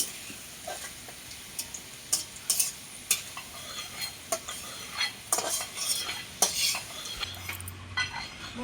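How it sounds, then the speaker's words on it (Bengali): Bay leaves and cumin seeds sizzle in hot oil while a utensil stirs and taps against the pan, a soft bed of frying under repeated clicking scrapes. "খুব সুন্দর নাড়াচাড়া করে নিচ্ছি আমি ফোড়নটা"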